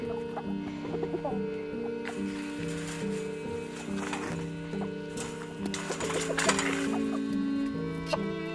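Chickens on a homestead in Spain cluck repeatedly on a winter morning, close by, their busy calls layered over a steady mechanical hum.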